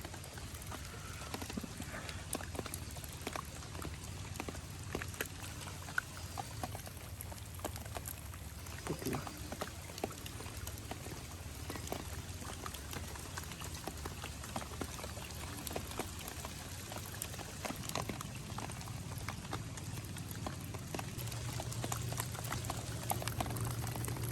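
Heavy rain pours continuously outdoors during a fishing trip, a dense, even hiss with frequent sharp drop impacts, holding steady throughout and growing slightly louder toward the end.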